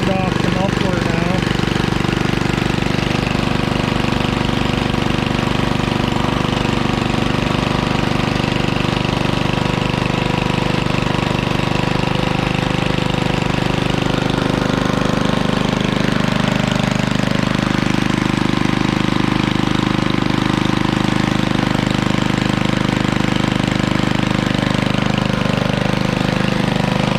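A Briggs & Stratton 6B HS engine on a 1956 Cooper Cyclo-Mo-18 runs steadily with a loud, close putter and chugging knock that holds throughout, while people talk over it.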